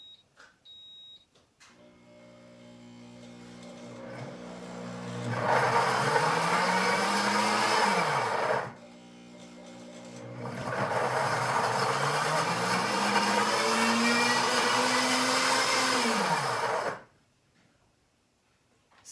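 A countertop blender on its heated puree setting grinds marinara in two long loud bursts, the motor whining and rising in pitch each time, separated by a short pause with a faint humming and beeping between.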